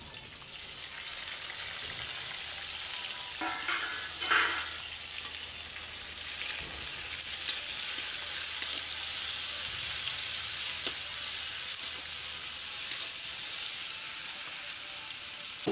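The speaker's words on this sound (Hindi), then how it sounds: "ये देखिए टमाटर और प्याज डाल रहे हैं एक साथ" Tomatoes and onions frying together in refined oil in a pan, a steady bright sizzle throughout with a few short clattering stirs near the start.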